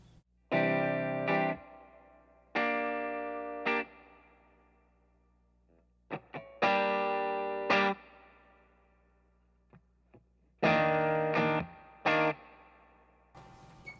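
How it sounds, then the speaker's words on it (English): Electric guitar chords struck in separate bursts through a 3rd Power Kitchen Sink 6VEL amp, each drenched in heavy reverb with long ringing tails and a slightly distorted edge. No voices. "to like drenched reverb"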